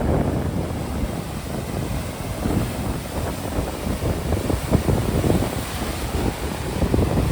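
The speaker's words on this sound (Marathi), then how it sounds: "पावसाळा असल्यामुळे पाणी खूपच खवळलं आहे बघा लाटा केवढ्या येतात बघा" Heavy monsoon surf crashes and churns without pause at Hedvi beach on a rough sea, with wind buffeting the microphone loudly throughout and no voices.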